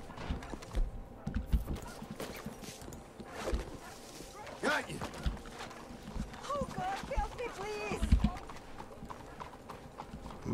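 Horse hooves clip-clop in Red Dead Redemption 2 running the LSPDFR police mod. The hoofbeats are close and uneven, with creaks, a brief whinny and intermittent voices.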